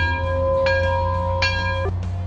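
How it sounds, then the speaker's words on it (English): A bell rings out three times in clear, ringing strikes over a low steady hum at a truck dealership. "Somebody ring the bell."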